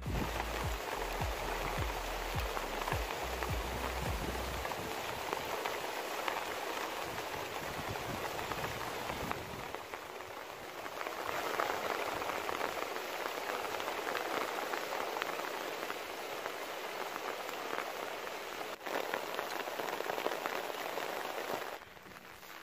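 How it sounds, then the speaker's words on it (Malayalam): Steady rain falls on paddy fields in Palakkad as a continuous, even hiss of drops, close and moderately loud, with a low rumble early on and no talking. "നല്ല രീതിയിൽ മഴ രാവിലെ മുതലുണ്ട്"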